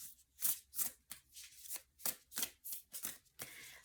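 Large tarot cards are shuffled in a quick series of crisp, riffling bursts, about ten in a row, close and fairly quiet with no talking.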